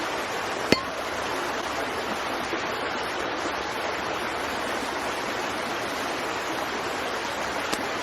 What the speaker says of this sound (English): filtered water in the creek behind me